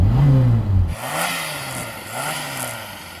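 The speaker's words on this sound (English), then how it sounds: "So I'm going to rev up this Reliant Regal." Reliant Regal three-wheeler car engine revs hard up close, then drops to a lower idle with two further rising blips of the throttle.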